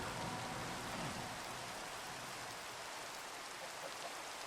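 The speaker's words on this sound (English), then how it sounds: "And it is raining" Steady rain falls continuously in the Minecraft SkyFactory 4 video game, a dense, even hiss that stays at the same level throughout with no voices.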